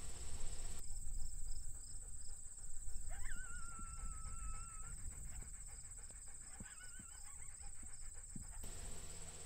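Faint, distant coyote yips and a wavering howl rise over a constant outdoor background hum and insect buzz on the Montana prairie, the calls coming in two short bouts.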